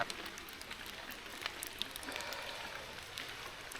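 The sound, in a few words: rain falling outdoors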